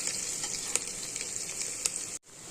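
Onions frying in ghee in a pan for a chicken curry make a soft, steady sizzle with occasional light stirring clicks, then cut off abruptly near the end.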